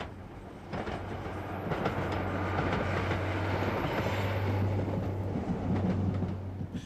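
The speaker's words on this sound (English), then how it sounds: "This particular working is a special, conveying empty Freightliner flats to Fort William and Corpac." A special freight train hauling empty Freightliner flats through the Scottish Highlands toward Fort William and Corpach rumbles past in a steady, loud roll of wheels and wagons over a low droning hum, with no voices.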